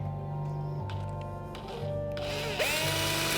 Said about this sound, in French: On prend la dernière perceuse. Prends la dernière perceuse.